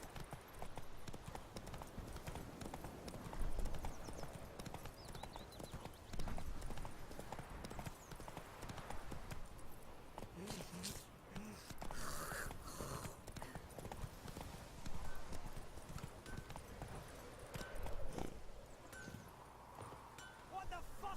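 Horse hooves in Witcher 3, a brisk repeating clip-clop of a ridden horse on the move, steady through most of the stretch, with someone talking over it.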